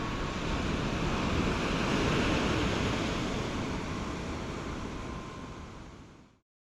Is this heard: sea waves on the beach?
yes